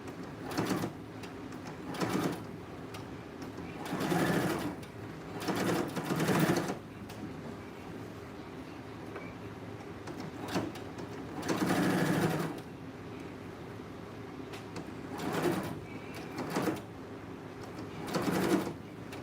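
A sewing machine runs in short repeated bursts, stitching a pleat on a small dress, close up with pauses of quiet hum between runs and no talk.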